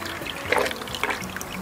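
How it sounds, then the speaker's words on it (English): A small creek on the Washington Pacific coast trickles and burbles steadily. The flow sounds soft and fairly close, with no talking. "there's a little creek and it's still flowing"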